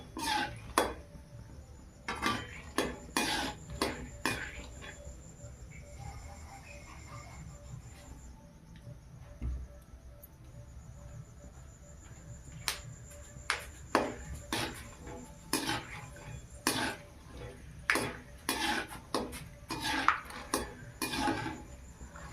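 Peanuts frying lightly in hot oil while a spatula stirs them in a pan, with repeated sharp metallic scrapes and clinks in uneven bursts over a quiet sizzle, and a faint insect chirp in the background.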